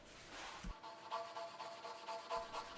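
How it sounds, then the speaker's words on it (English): Hand sanding of hard-to-reach spots and chamfers on a wooden furniture piece inspired by Ishitani furniture: faint, close rasping strokes of abrasive on wood in a steady back-and-forth rhythm. "it's a bit of hand sanding on the harder to reach spots"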